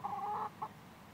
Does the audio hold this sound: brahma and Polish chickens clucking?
yes